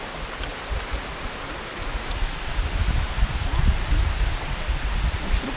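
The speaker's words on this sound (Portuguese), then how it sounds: "Vou sair daqui que o vento tá entrando aqui." Wind blows steadily outdoors beside a waterfall, blending with the water's constant roar. The broad, rushing wash holds fairly even throughout and swells slightly toward the middle, with no voices.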